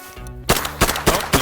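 Rifle shots firing in a video game, about four sharp cracks at steady intervals, loud and close, with a low steady hum beneath.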